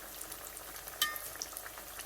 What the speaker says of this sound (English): So look, they virtually are deep frying, but they do need to be turned